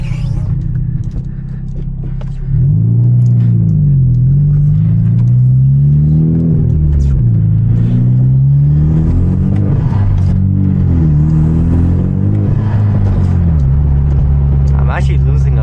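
A manual Hyundai Genesis Coupe's engine drones and revs up and down repeatedly, loud and close, with pitch rising and falling as the car slides and accelerates while drifting on a wet road in heavy rain at night.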